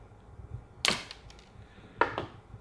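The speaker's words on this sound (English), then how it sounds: "So taking apart these zip ties." Zip ties are snipped apart on a hydration bladder cleaning kit, giving two sharp, quiet snaps about a second apart over a low background, with no voices.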